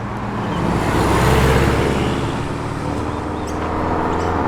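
A Porsche rolls past at an outdoor car show, its engine roar swelling and then easing off as it goes by, loud and steady with no voices.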